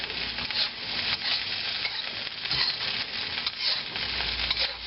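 Asian-style fried rice is stir-fried in a pan, with steady loud sizzling and repeated scraping, tossing strokes of a utensil close up, no voices.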